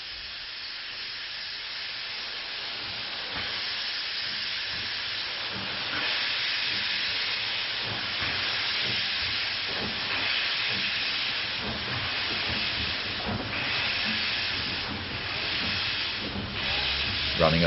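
A mainline steam locomotive on the Great Central Railway between Loughborough and Leicester gives a steady, fairly faint hiss and rush of steam, with soft repeated chuffing pulses running through it.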